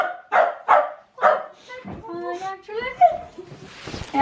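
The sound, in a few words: dog barking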